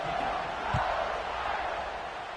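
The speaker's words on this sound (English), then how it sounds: "this crowd is buzzing after that last score" A stadium crowd in a video game college football match between Notre Dame and Arkansas keeps up a steady, broad roar with one brief thump, sitting as constant background throughout.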